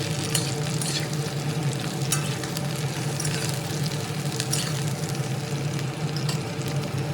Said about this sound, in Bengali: এবার ঝিঙে আলু ভালোভাবে নেড়ে চেড়ে দিচ্ছি